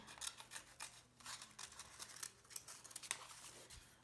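Scissors snip through paper while cutting out a paper doll, a quiet, close series of short crisp cuts at an uneven pace.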